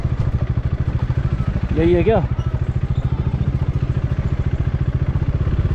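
A heavy motorcycle idles on a dirt road in Assam with a steady, rapid, even thumping that runs throughout. Someone briefly speaks over the close engine rumble.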